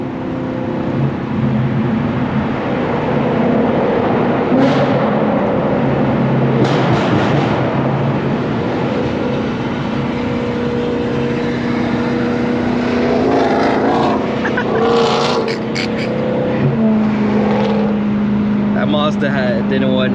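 Loud, continuous exhaust roar from a BMW M3 with a new exhaust system accelerating in traffic, the tone rising and falling as the car pulls, with other vehicles around it.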